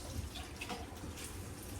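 Water poured from a can into a cooking pot while making arroz con gandules, a steady close splashing fill with no pauses and no talk.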